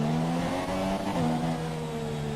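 Race car engines in the F1 2017 video game droning steadily as the field runs bunched up behind the safety car, a continuous close harmonic whine with slight pitch shifts, no voices.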